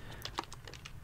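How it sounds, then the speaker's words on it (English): Keys on a computer keyboard clack in a quick, irregular run of light taps, close and fairly quiet against a soft background hiss, with no voices. "I wanted to incorporate maybe keyboard sounds as well"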